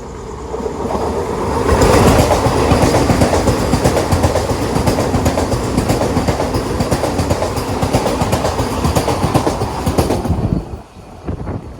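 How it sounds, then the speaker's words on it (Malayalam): An orange Chennai–Mysuru Vande Bharat Express thunders past at close range, a loud sustained roar with rapid clickety-clack of wheels over rail joints that fades abruptly near the end. "ഓറഞ്ച് വന്ദേ ഭാരത് കണ്ട? ഇത് മറ്റേ പുതിയ ഐറ്റമാ."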